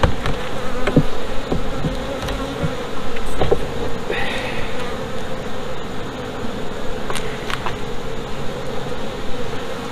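Honey bees buzz thickly around opened beehives on a farm, a dense, close, continuous hum with scattered clicks and knocks from handling the hive equipment.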